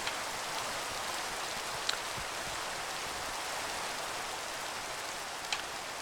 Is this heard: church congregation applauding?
no